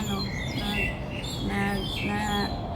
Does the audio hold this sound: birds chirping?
yes